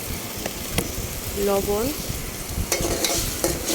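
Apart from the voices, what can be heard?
garlic and fried onion sizzling in oil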